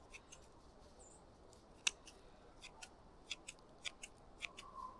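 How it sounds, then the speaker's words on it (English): Shears snip through the root mass of a conifer being trimmed for potting in winter, a series of short crisp cuts spaced irregularly and heard close up in a quiet setting. "I'm going to go ahead and cut some of this root mass off."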